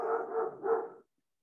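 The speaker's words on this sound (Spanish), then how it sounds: "Otra vez el perro. Parece que hoy tiene más ganas de ladrar que nunca." A single dog barks a few times in a quick run of two or three muffled, mid-pitched barks lasting about a second, then everything falls silent.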